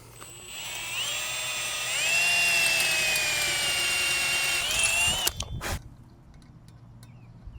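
A power drill whirs loudly for about five seconds drilling into a Milwaukee saw stand, its pitch rising as it speeds up, then stops with a couple of clunks and a quiet tail.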